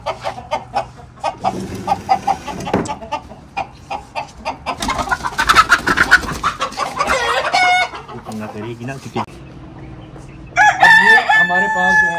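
Chickens cluck in quick repeated bursts on a farm, and a rooster crows loudly and close near the end, with the barnyard noise layered over faint background sounds.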